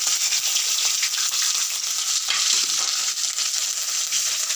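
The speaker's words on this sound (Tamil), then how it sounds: "எண்ணெய் ஊற்றிக்கோங்க. கடுகு, பச்சை மிளகாய், கருவேப்பிலை," Mustard seeds, green chili and curry leaves fry in hot oil for a sambar, giving a steady, dense sizzle with crackling pops, close and continuous throughout, with no voices.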